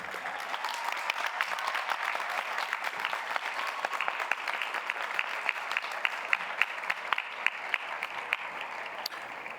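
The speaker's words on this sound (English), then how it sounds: "everybody sitting on the field give a round of applause to those people in the stands" Graduates seated on the field of a 2017 Century High School graduation ceremony give sustained applause toward families in the stands: a dense, even wash of many hands clapping, heard from a distance across an open stadium, steady for nearly ten seconds.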